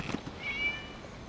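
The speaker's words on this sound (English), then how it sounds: "It was just a cat." A cat meows once in Genshin Impact, a short, clear, moderately close mew heard alone over faint background ambience.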